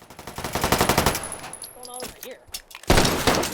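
Rapid automatic fire from a PDW in the VR shooter H3VR, a fast dense burst that fades out, a short gap, then another loud burst near the end.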